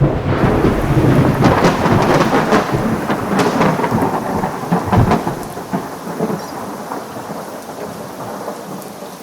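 A thunderstorm with heavy rain pours steadily on surfaces while deep rolls of thunder rumble through, loud and enveloping, with no voices.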